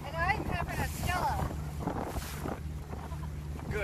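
A vintage speedboat cruises New York harbor on the East River, its low steady engine hum running beneath wind buffeting the microphone, with people talking over it throughout.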